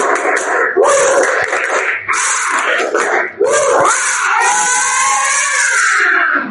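Schoolchildren in a classroom perform a tepuk semangat cheer, a loud group chant of young voices mixed with rhythmic clapping, continuous and close throughout with brief dips between phrases.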